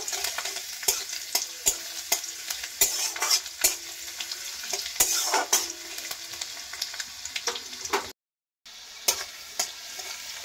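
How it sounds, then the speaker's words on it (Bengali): Chopped garlic, black cumin and a dried red chilli fry in oil, a steady close sizzle broken by frequent spoon clicks and scrapes against the pan, no talk, with a brief silent dropout near the end. "আর দিয়ে দিচ্ছি কুচি করে রাখা রসুন। ভালো করে ভেজে নেব।"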